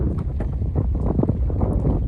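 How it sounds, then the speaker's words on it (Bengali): Strong wind buffets a fishing boat on a river at night during hilsa fishing, a steady roaring rush with gusty swells filling the whole stretch, close and loud. "খুব জোর বাতাস উঠেছে"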